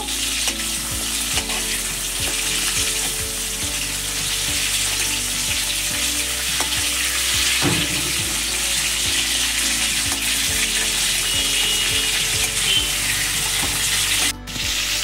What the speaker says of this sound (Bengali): চিংড়ি মাছ হালকা ভেজে নেব।